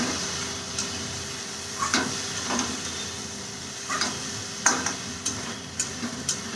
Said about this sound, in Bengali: এবার দেখো নাড়বো চাড়বো